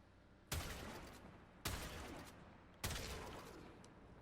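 Three Vectis Prime rifle shots ring out in Warframe, evenly spaced about a second apart, each a sharp crack with a long decaying tail, with no voices.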